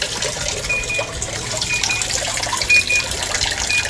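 A Panasonic washing machine rinsing during its drum cleaning cycle, a continuous splashing, trickling wash of water inside the tub, steady and fairly loud with no voices.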